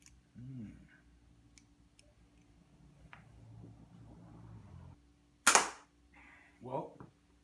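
A Gat air pistol fires a single sharp shot that smacks into a target board, a loud abrupt crack near the middle, followed by someone speaking briefly.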